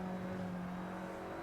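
A race car engine drones steadily in a racing video game as the car drives through the Laguna Seca corkscrew, a brief sustained tone at moderate level.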